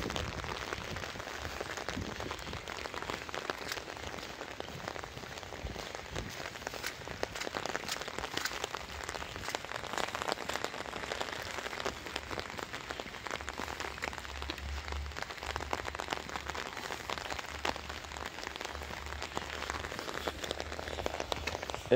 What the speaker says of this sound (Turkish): Burada bir başladı mı durmuyor yağmur.